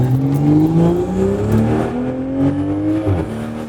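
A Toyota GR Supra engine revs loudly and steadily up through the gears, its pitch climbing then dropping as it shifts.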